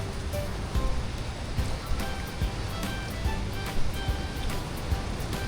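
Sea waves wash onto a beach at Casiguran, Aurora, where a picnic is set up: a soft, steady surf hiss that rises and falls gently, fairly faint and with no talk.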